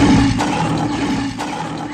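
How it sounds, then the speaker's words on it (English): Echoing lion roar from inside a well in a Panchatantra fable sound effect, a loud sustained growling roar with reverberant tail that fades over about two seconds, no talk. "and the echo came back as even bigger roar."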